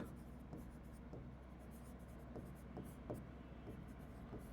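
Marker or chalk writing on a classroom board, faint scratchy strokes in short irregular bursts over a low steady room hum.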